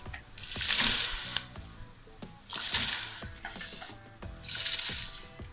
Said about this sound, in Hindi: अब ये चावल मैं इसके अंदर डाल दूँगी।